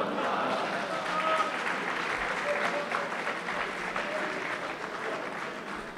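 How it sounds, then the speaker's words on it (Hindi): Hesitant audience applause at a humorous poetry recital in Bahrain, a moderate, continuous patter of clapping from a seated crowd heard at some distance without any voices over it. "ये बड़ी डरी डरी तालियां हैं।"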